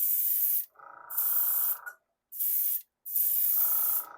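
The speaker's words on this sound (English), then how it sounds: "As you can hear, my airbrush goes on and off quite a bit, being that it's tankless." Tankless airbrush spraying Vallejo primer in light mists, a steady close hiss that cuts on and off in four bursts with brief silent gaps between them.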